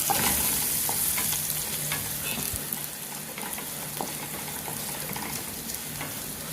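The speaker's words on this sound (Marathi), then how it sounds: "आता याच्यात आपण कापलेला लसूण टाकूया लसूण चांगला गुलाबी होईपर्यंत भाजायचा" Chopped garlic frying in hot oil in a pan for spring onion greens, a continuous loud sizzle with occasional stirring scrapes and crackles, close up with no talking.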